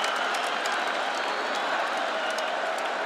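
Arena crowd at an MMA fight in the octagon roars and cheers steadily after the bout, a dense wall of noise with scattered clapping and whistles, loud and continuous throughout.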